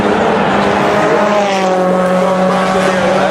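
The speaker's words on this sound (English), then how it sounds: "It's a drag race." Race cars in a drag race roar loudly and continuously, with sustained engine tones rising in pitch as they accelerate close by.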